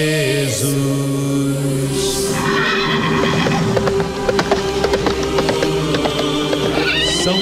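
A loud horse-neigh sound effect plays at a live stage show to announce a white horse arriving, with long, ringing whinnies and clopping hooves over a busy background, no voices.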